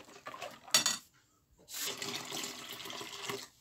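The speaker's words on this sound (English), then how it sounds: "Pour the lemon juice." Lemon juice pours with a continuous wet splashing for a couple of seconds, following a brief clink of kitchenware and a short pause, all fairly close and without speech.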